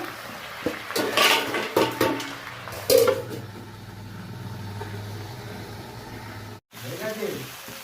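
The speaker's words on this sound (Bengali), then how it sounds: "এবার একটা চাপা দিয়ে দেবো।" Metallic clatters and clinks from a pan and lid sound up close as a cover is put over spinach curry cooking on the stove, followed by a low steady hum and faint sizzling.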